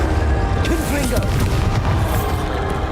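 Confringo blasting spell in Hogwarts Legacy going off as a deep booming explosion with a rumbling tail, while a voice speaks over it.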